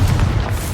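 A Confringo spell explosion in the Hogwarts Legacy video game lands as a loud, close, deep boom with a rumbling low end that fills the short moment.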